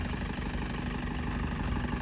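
An old tractor sold for scrap idles close by with a steady, even rumble and vibration, no voices over it.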